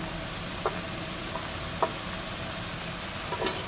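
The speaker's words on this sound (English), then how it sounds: "We need to mix it well so there's no lumps inside the masala." Masala and gram flour being stirred in a pan for soya chaap curry, a soft steady sizzle with a few light spoon knocks against the pan scattered throughout.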